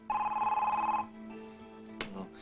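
A telephone rings with an electronic bell-like trill, one clear ring burst followed by a quieter tail and a faint clunk, heard indoors without speech.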